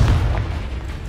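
Confringo spell blast from Hogwarts Legacy, a heavy low boom hitting hard at the start and rolling off into a lingering rumble, loud and close without any talking.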